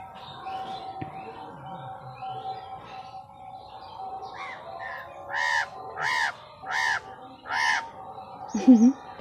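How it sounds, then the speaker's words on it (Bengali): Crows caw in a quiet outdoor spot beside a house, giving four or five loud, separate harsh calls in a steady rhythm over a faint background hum, with a lower call near the end. "পাখির ডাক হয়ে গেল।"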